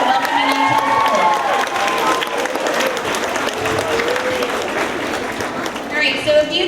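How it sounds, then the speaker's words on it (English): Big round of applause from an audience at a middle school welcome event for rising sixth graders, honoring student helpers; steady dense clapping throughout with some crowd murmur and light cheering underneath. "let's give a really big round of applause to all of our students here helping you and welcoming you to the school"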